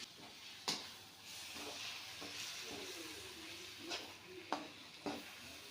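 Chicken curry in the Tamil Nadu style sizzles steadily in a pan while it is stirred, with a few sharp spoon clinks and scrapes against the pan at intervals. The sound is fairly quiet and close, with no talking.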